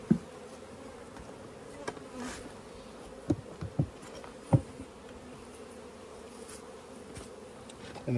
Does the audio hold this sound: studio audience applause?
no